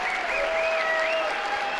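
A baseball stadium crowd at an Ole Miss versus Georgia game breaks into a burst of applause and cheering. It is dense and steady with a thin whistle-like tone drifting above, fairly distant, with no talk.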